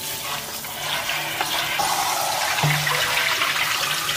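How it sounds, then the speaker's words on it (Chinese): Pork ribs rinsed under a steady stream of running tap water in a kitchen, a continuous close splashing wash with a brief bump partway through, no talking. "然后再用清水多冲洗两遍"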